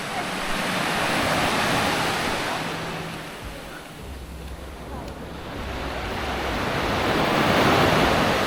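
Ocean waves wash onto a beach in Sri Lanka, a loud close roar of surf that swells, dips briefly in the middle, then builds again, with wind buffeting the microphone throughout.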